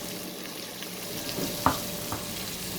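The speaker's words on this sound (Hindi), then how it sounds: "तमाम चीज़ों को शामिल कर दें और अच्छी तरह से अब इसको आप भून लें" Potato pulao masala frying in a pot with garam masala, turmeric, salt, red chilli, tomato and yogurt, giving a steady close sizzle with a few sharp stirring clatters near the middle.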